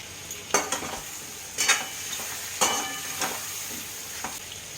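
Chopped onions frying with bitter gourd in a pan make a steady sizzle, broken by several stirring scrapes that come at uneven gaps.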